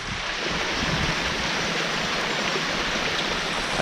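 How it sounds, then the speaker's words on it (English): Fast-flowing water rushes steadily down a gully, a continuous broadband roar with no pauses, loud and close throughout. "It's quite a fast flowing water."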